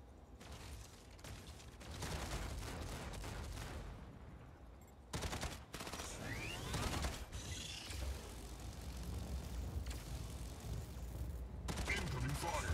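Rapid bursts of gunfire and mechanical clanking from a mech combat video game, with loud volleys breaking off abruptly and resuming, heavy and continuous over several seconds.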